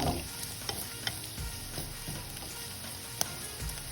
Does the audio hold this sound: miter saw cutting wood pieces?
no